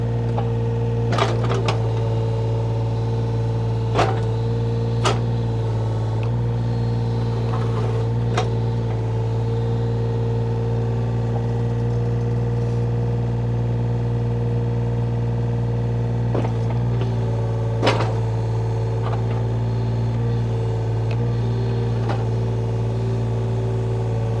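A 2006 John Deere 35D compact excavator idles with a constant low hum while swinging around, with faint clicks and knocks scattered through the steady machine drone.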